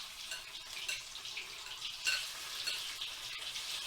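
Chicken pieces fry in hot oil in a pan for a chicken korai, a close, continuous crackling sizzle with small pops, at an even level throughout and no talking.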